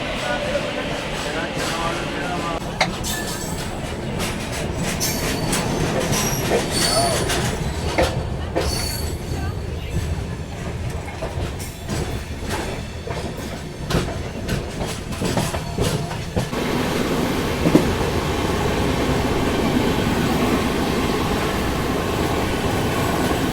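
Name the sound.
East Coast Express train departing Vijayawada Junction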